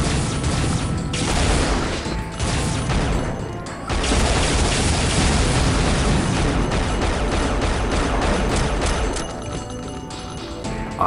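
Automag pistol gunfire rings out in the video game Unreal Gold as a dense, loud stretch of rapid shots and impacts, dropping briefly near the start and again toward the end.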